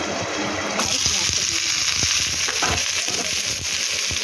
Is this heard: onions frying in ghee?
yes